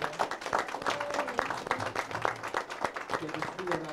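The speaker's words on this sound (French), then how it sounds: "j'aimerais que vous faites une belle main d'applaudissement pour Emma Saint-Pierre-des-Bois" Applause at a funeral ceremony for a musician named Emma Saint-Pierre-des-Bois, a room of people clapping in a dense, uneven patter that holds steady for several seconds at moderate loudness.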